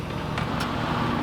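A boat's engine drones steadily and evenly throughout while motor sailing in light wind toward Ensenada, Mexico, a continuous low rumble with broadband wash and no voices.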